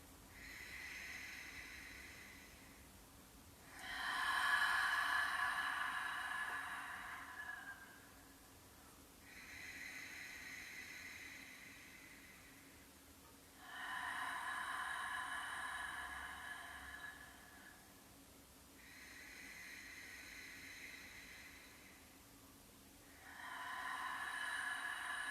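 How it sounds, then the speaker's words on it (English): Slow, deep breathing during a yoga pose, with long hissing breaths through the nose repeating about every five seconds, close and soft with quiet gaps between, no talking. "And then you're just going to breathe."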